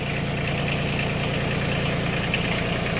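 A Kubota L2002DT tractor with a three-cylinder engine idles at a steady, even chug. The engine is close and fairly loud, and it keeps running throughout without being switched off.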